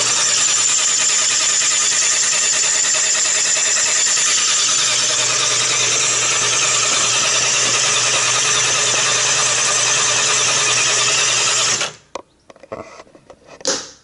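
An old vintage motorbike engine runs steady and loud with a mechanical clatter after the ignition is switched on, holding a constant drone before cutting out abruptly near the end, leaving a few faint knocks.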